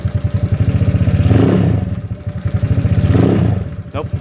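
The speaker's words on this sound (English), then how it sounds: "Gonna raise the RPM." A GY6 scooter engine idles with a steady pulsing putter, then revs up twice as the RPM rises and falls, close and loud, while a person talks over it.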